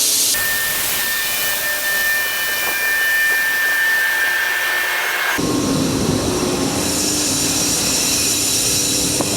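A steady, loud mechanical roar of a grain dryer running continuously, with a shift in tone partway through as the blower noise deepens.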